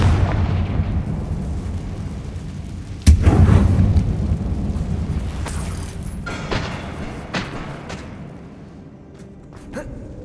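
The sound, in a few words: Bombarda blasting spell explosion from a Harry Potter video game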